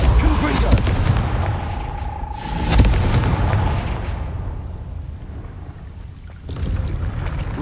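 Confringo fire spells explode in the Hogwarts Legacy game, a loud deep boom with a bright crackling burst near the three-second mark, then a rumbling fading tail and a second softer blast near the end, with no talk.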